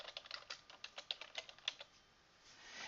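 Someone types a title in Microsoft Word on a computer keyboard, a quick close run of light keystrokes for about two seconds that then stops, leaving faint room noise.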